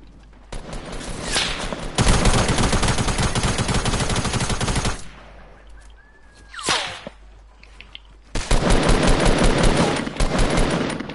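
Bursts of rapid gunfire in the Fortnite video game, long loud automatic volleys alternating with quieter gaps holding a sharp single shot and a whooshing sweep.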